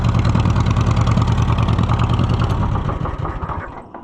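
An Allis-Chalmers C tractor engine idles loud and close with a steady rumbling chug, then winds down and fades toward silence as it is shut off near the end.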